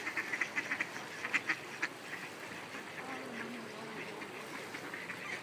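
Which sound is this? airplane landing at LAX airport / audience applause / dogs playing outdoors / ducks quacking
ducks quacking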